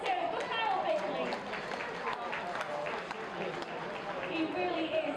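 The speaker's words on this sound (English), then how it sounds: "Manchester, let's have a round of applause. Come on, let's hear it for Kyle Bickley." Crowd in Manchester applauding rider Kyle Bickley at a speedway under-21 team championship meeting, a moderate spread of clapping and cheering from a distance, with an announcer's voice talking over it.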